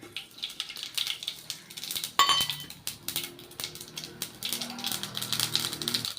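Mustard seeds spluttering in hot oil, sharp irregular pops and crackles ticking steadily and close by, growing busier toward the end with faint clinks alongside.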